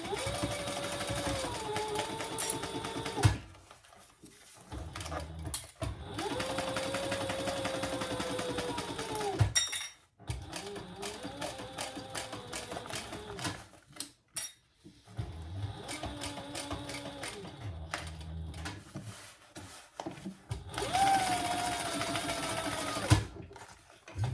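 A home sewing machine stitches over a D-ring on a fabric wristlet, running in several loud close bursts of rapid mechanical whirring separated by short pauses and handling clicks.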